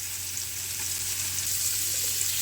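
Marinated paneer pieces frying in a pan on a gas flame, a steady close hiss and crackle of hot oil throughout, no talking.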